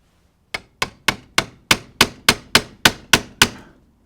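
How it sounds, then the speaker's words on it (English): Ten sharp metallic hammer strikes on a small chisel cutting away plastic on a Mercedes front seat handle, in an even, steady rhythm, close by and fairly loud, each ringing briefly before the next. "I'm going to get a small chisel and a hammer and try to chisel this down through there"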